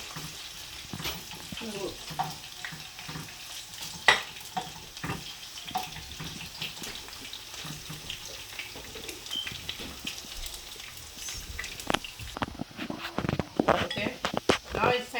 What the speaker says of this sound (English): Gonna fry some onion for flavor, for the flavor.